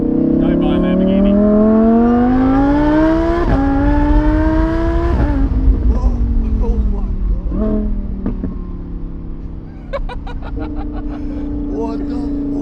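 A supercharged Lamborghini Huracan Performante Spyder accelerates hard from close range, its engine note climbing steeply through a gear change and then settling into a strong drone, with voices inside the car.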